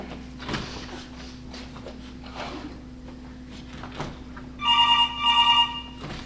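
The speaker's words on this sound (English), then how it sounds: "Your phone's ringing." A telephone bell rings in two short bursts near the end, loud and close, after a stretch of quiet room noise and faint movement.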